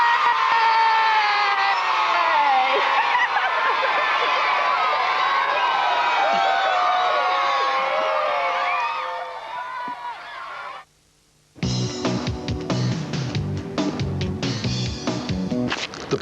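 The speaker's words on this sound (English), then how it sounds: "Give us a nice big cheer from all of you here in Alford." A crowd of infant and junior school children in Alford cheers loudly with high, excited shouts for several seconds, then breaks off abruptly into a brief silence followed by different sound.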